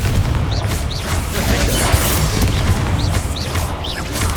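Confringo blasting spells from Hogwarts Legacy go off as repeated loud booming explosions over a dense crackling rumble, with whooshing spell sounds recurring through the mix.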